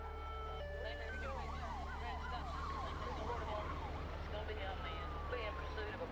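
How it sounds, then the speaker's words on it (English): A police car siren wailing continuously during a vehicle chase, loud and steady over a constant engine drone, the tone sweeping up and down throughout. "We turned on red lights and sirens in an attempt to stop him."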